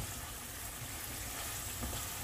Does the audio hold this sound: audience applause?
no